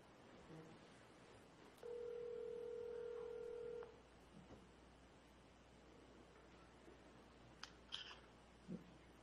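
Telephone keypad tones sound during a phone call at a school board meeting: a single steady electronic tone lasts about two seconds over low room hiss, followed by faint clicks.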